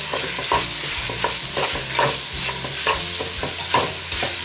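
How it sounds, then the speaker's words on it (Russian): Tomato paste and garlic sizzle loudly in a hot pan while a spoon stirs them, a soup being made in a home kitchen. Close, continuous frying hiss with repeated scraping strokes and no talk. "И перемешиваем."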